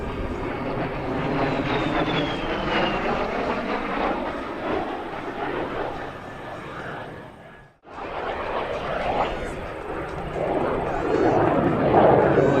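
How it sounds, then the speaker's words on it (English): A jet aircraft with afterburner passes at an air show, a loud continuous roar that swells and fades, dropping out for a moment before resuming. "see that flicker from that afterburner."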